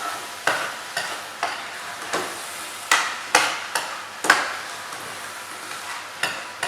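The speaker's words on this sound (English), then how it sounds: "Give it a nice stir, don't let it stick to the bottom" Rice grains being stirred in a pan for pilaf, with onions cooking alongside, giving a steady sizzle broken by regular scraping strokes of a utensil against the pan, close and clear with no talking.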